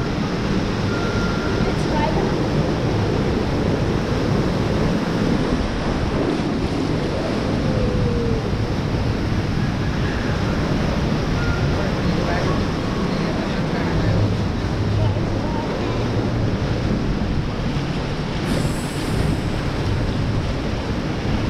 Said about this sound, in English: let us go down this little rapid.